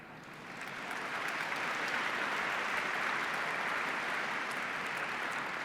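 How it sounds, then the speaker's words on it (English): A crowd gives a steady round of applause that swells in during the first second and then holds as a dense, even wash of clapping. It sounds distant and fairly soft, with no voices on top. "it's really nice to hear applause for a change"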